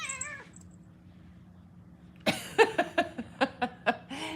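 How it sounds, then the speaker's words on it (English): A domestic cat meows several times in a close, loud series of short, evenly spaced calls, following a quieter meow at the start and a stretch of near silence. "She's a very vocal cat."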